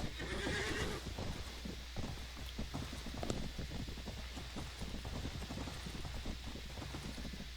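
A horse whinnies loudly at the start in the Mount & Blade Warband game, followed by steady clip-clopping hooves and a soft rain-like hiss throughout.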